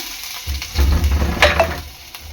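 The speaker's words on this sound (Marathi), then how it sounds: "आता इथे आपलं तेल चांगलं गरम झालेलं आहे ह्यामध्ये टाकणार आहे मी आलं लसूण" Ginger and garlic dropped into hot oil in a pan, a loud continuous sizzle that swells as they hit the oil, close up, with no voices.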